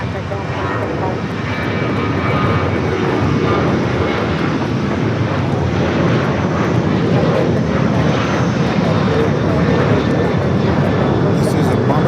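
A Bombardier Global 5000 business jet at Los Angeles International Airport gives off a loud, steady engine roar that holds throughout, with air-traffic radio talk over it.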